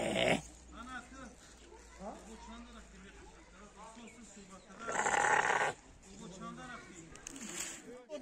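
A sheep bleats loudly in a couple of short bursts near the start and middle, heard over the steady murmur of people talking close by.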